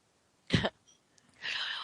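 A single short cough, followed moments later by a breathy exhale or throat noise; otherwise quiet.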